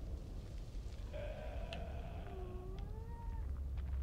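A cat meows several times in a row, long wavering cries of moderate loudness over a low steady background hum, with no talking.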